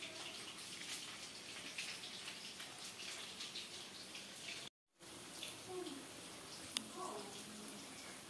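Rice with cardamom and white oil boils in a pot, making a continuous bubbling, watery hiss with a brief cut to silence midway, and faint talk around it.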